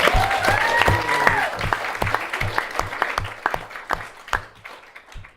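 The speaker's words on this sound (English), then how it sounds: "A round of applause for them." Wedding guests applauding at a reception speech, a burst of clapping with a voice over its start that thins out into a few scattered individual claps as it fades.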